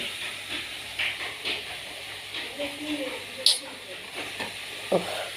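Pomfret fish curry sauce of tomato, green chili, black cumin and oil bubbles in a pan, a soft steady hiss and simmer with a few light clicks and pops, close and fairly quiet.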